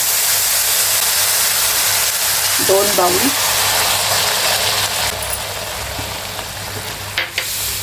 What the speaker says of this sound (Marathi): ह्यामध्ये गरम पाणी घालायचं